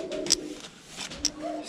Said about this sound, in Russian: Вот голубь заходит.